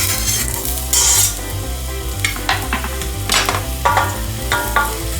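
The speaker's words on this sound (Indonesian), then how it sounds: "Lalu tumis sejenak." Red onion sautés in hot oil in a pot for chicken soup, a continuous loud sizzle broken by scraping stirs and faint clinks of the utensil against the pot.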